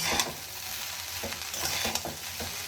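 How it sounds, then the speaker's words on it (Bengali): Ground spices being stirred into fried rice in a hot pan, a spatula scraping in several distinct strokes over a soft steady sizzle, close and fairly quiet. "এবার খুব ভালো করে এগুলোকে মিশিয়ে নেব"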